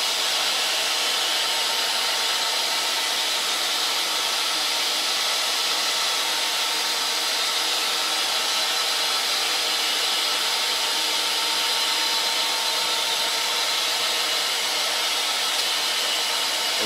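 CNC lathe making its last rough cut during Arduino-controlled profiling, a steady loud broadband whirr of motor and cutting that holds constant throughout with no pauses or voices.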